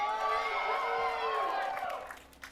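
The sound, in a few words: esports arena crowd cheering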